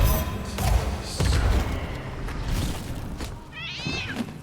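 A cat meows in the Sea of Thieves video game, a short, clear call near the end of the clip, heard over a busy background of game thumps and ambient noise.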